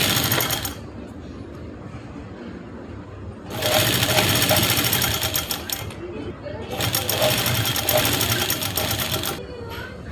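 A sewing machine stitches pleats on an Afghani salwar in two loud bursts of rapid needle strokes, with a softer, quieter stretch before and between them.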